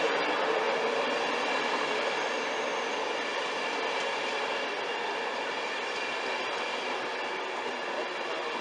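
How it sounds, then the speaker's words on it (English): Virgin Trains East Coast train at Newark North Gate station on the London King's Cross to Edinburgh Waverley line, a steady, fairly loud rumble of rolling stock and wheels that holds for the whole stretch with no voices. "Virgin Trains East Coast service. From London King's Cross to Edinburgh Waverley"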